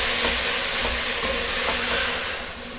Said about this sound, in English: add the greens bit by bit and cook with the onions